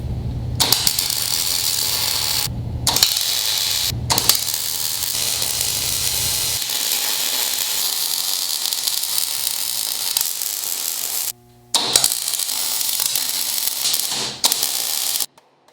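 Welding on a Ford Bronco cowl panel gives a loud, steady, crackling sizzle in long bursts with a few short pauses between beads, close up and alone, with a low hum fading out partway through.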